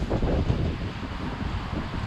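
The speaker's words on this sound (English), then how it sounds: "You can see even this plant right here, it's really windy." Steady outdoor wind buffeting the microphone on a blustery day among palm plants, a low continuous rumbling roar with no speech.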